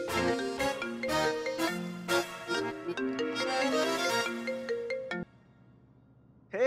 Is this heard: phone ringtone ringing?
yes